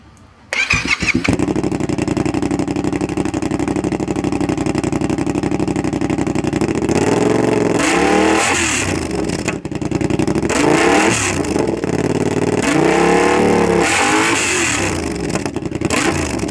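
A Yamaha FZ-07 motorcycle with a DanMoto XG-1 full exhaust and modified baffles starts and idles with a rough, throaty exhaust, then revs up sharply twice, each surge climbing and falling back to idle.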